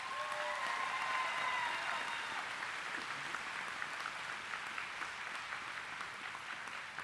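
Sustained applause from a graduation audience at a 2023 McLoud High School ceremony, a dense even patter of many hands clapping that holds steady, with a few cheers or whistles early on, filling the space with no talk.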